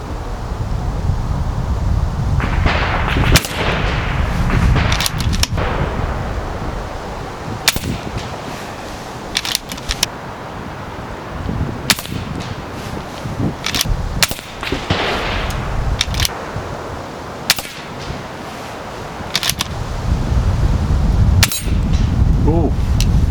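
Shots from a Kral Arms or Hatsan PCP airgun ring out as a series of sharp cracks with metallic clangs from hits on a target, spaced irregularly several seconds apart over steady outdoor noise.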